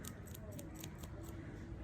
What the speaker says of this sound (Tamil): இப்படி லைட்டாக சொரண்டிங்கன்னா இது மேலே உள்ள தோடெல்லாம் வந்துடும்